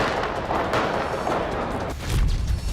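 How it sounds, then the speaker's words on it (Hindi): Gunfire from the Vienna terror attack, with shots fired in the street and into bars and restaurants, heard as a steady noisy wash of shots and echoes followed by a louder, closer low boom near the end. "बार और रेस्टोरेंट में घुसकर फायरिंग, 100 राउंड से ज्यादा फायरिंग।"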